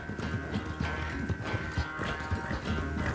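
A horse gallops in the video game Red Dead Redemption 2, with quick, rhythmic hoof clip-clops pounding steadily up close over a low background hum.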